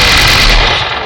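Loud burst of rapid gunfire from a zombie shooter video game, a dense, close, harsh volley lasting about a second with no talk.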